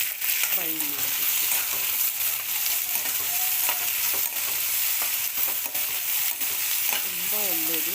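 Onion, green chillies and curry leaves fry in hot oil in a pan, a steady bright sizzle with occasional stirring scrapes and clinks, close and continuous with no talk.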